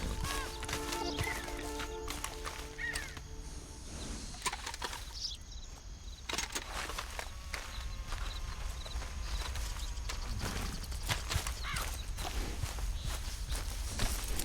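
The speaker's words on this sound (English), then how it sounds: "Just get on the horse when you're good and ready" Horse hooves clip-clop at a walking pace in Red Dead Redemption 2, a steady repeating thud of footfalls with light ambient birdsong and game sounds around it.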